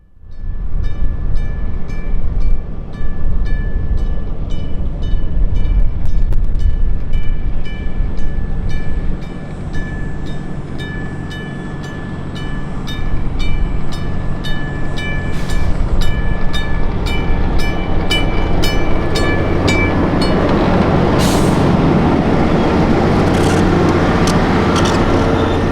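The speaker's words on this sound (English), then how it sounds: "Back on museum grounds, we would catch the return of the caboose train with BN1." A diesel-hauled caboose train arrives at the Illinois Railway Museum, its engine droning loudly with a steady tonal whine and rumbling wheels, growing rougher and louder toward the end.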